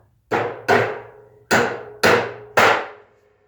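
Five sharp blows of a 19-ounce Milwaukee hammer on a nail, each ringing briefly before the next, close and loud with an uneven rhythm.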